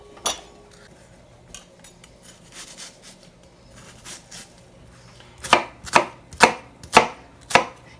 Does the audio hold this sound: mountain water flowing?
no